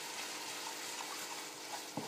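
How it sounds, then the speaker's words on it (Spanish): Cauliflower sauce sizzles steadily in a pan as alcohol cooks off, with a spoon stirring through it and a soft scrape near the end, close and fairly quiet with no talk. "Lo movemos, dejamos que se evapore el alcohol."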